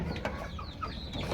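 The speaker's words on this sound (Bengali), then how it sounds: "দেখুন বাইরেও অনেক মুরগি আছে আমার" Domestic desi chickens on a small farm, with several short clucks and calls over a steady, noisy background, fairly close.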